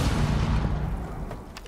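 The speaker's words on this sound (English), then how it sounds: "You can throw a nade, yeah." A grenade goes off in Rainbow Six Siege: a loud, deep boom with rumbling low end that rolls out and fades over under two seconds, with no talk over it.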